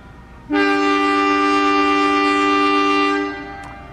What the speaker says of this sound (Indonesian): Nah ini ada kereta api lokal Cibatuan Diberangkatkan dari jalur 4